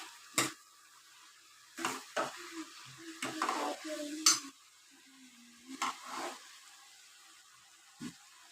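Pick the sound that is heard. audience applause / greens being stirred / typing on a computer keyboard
greens being stirred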